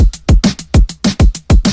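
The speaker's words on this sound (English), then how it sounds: "And all together, the drums sound like this." An electronic drum loop from an electro pop track in FL Studio, with kick, snare and hi-hat driven through overdrive, plays a steady, busy pattern of loud, gritty hits with no voices.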